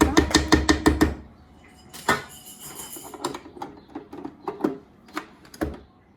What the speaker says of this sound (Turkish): Tekrar bir son kez çırpacağım.